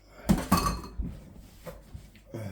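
Dishes and pans are set down in a kitchen sink, giving two close, sharp clatters early on followed by fainter knocks and clinks, with no talk.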